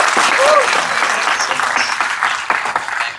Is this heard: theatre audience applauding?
yes